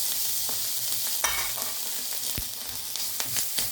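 Crushed ginger and garlic fry in a pan for a Kerala-style roasted-coconut chicken curry, with a loud continuous sizzle broken by several sharp scrape-and-stir clicks, up close and with no talking.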